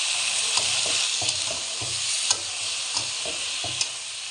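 Potatoes and eggplant fry in hot oil with turmeric and salt, a steady loud sizzle broken by regular scraping stirs of a spatula in the pan, with no voices.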